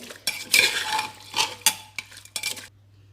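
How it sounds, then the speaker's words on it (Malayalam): Beef liver is stirred with masala in a pressure cooker pot for a Malabar-style dish, a spoon scraping and clinking against the metal in several close, uneven strokes over a low steady hum, with no talking. "എല്ലായിടത്തും മസാലയാവുന്ന പോലെ ഇളക്കി യോജിപ്പിച്ചിട്ട് നന്നായിട്ട് ഇളക്കി യോജിപ്പിക്കുക"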